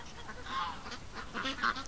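Geese give several short, scattered honks at a moderate distance, faint against quiet outdoor background.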